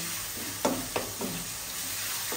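Onions frying in a pan with a steady close sizzle, broken by a few scraping stirs of a spoon or spatula.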